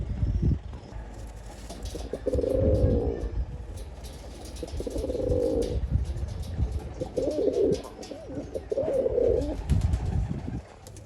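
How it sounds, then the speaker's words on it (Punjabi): Pigeons coo in repeated low, throaty phrases, several distinct calls spaced a couple of seconds apart, close by, over a quiet murmur of background noise. "ਸਾਰੇ ਵਿੱਚੋਂ ਵੱਡੇ ਕਬੂਤਰ ਨੇ ਜੀ"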